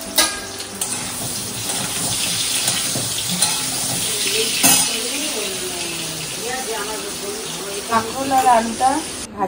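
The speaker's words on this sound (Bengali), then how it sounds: "কাঁকরোল আর আলুটা ভাজা হয়ে গেছে।" Pointed gourd and potato pieces fry in a pan with a constant close sizzle and scraping stirs, while a person talks over the cooking near the end.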